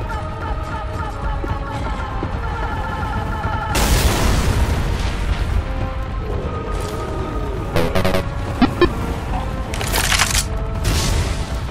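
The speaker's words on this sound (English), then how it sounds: "Pipe bomb all the way!" A pipe bomb exploding in the Left 4 Dead 2 VR zombie shooter game, a loud deep boom followed by crackling bursts and repeated pops amid game noise and shouting voices.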